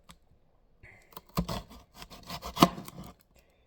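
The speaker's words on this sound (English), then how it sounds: "I'm sitting here cutting some onion for breakfast." A knife chops onion for breakfast, giving a short run of close, crisp cuts and scraping taps on a board, moderately loud and alone with no talking.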